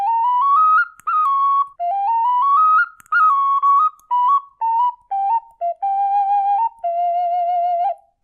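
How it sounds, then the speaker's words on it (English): A tiny 3D printed bird whistle flute tuned to high G plays a series of clear, piercing whistled notes, sliding upward in short phrases and then settling into steady held tones, each broken by brief pauses. "this is how this little bird whistle sounds."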